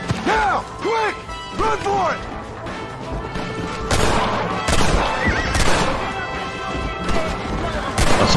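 Horse in the Red Dead Redemption video game neighing loudly in repeated whinnies, then crashing gunfire and impacts over a continuous background of game sound.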